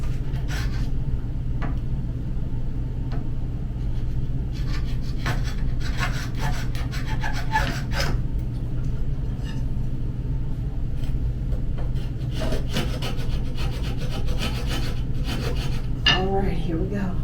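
Manual tile cutter's cutting wheel scoring a bathroom tile, producing a sustained gritty scraping over a steady low hum, with bursts of harsher scratching strokes up close.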